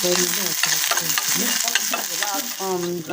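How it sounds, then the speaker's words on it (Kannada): Thick-cut onion chunks fry in hot oil in a home kitchen, a loud continuous sizzle with stirring and scraping sounds throughout, no talking. "ಎಣ್ಣೆ ಹಾಕೊಂಡು ಸ್ವಲ್ಪ ಒಂದು ಅರ್ಧ ಈರುಳ್ಳಿನ ದಪ್ಪ ದಪ್ಪ ಕಟ್ ಮಾಡ್ಕೊಂಡು ಸ್ವಲ್ಪ ಫ್ರೈ ಮಾಡ್ಕೋಬೇಕು"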